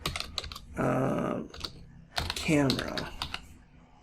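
Keys clatter on a computer keyboard while filenames are typed into render software, coming in quick bursts of clicks around a man's short spoken remarks.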